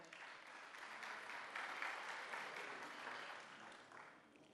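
Steady applause from a crowd, a continuous patter of clapping that holds for several seconds before tapering slightly at the end.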